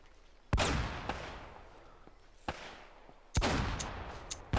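Gunfire in Uncharted: Drake's Fortune, several loud, sharp shots in irregular bursts, each with a brief echoing tail, plus fainter pops between them and no talking.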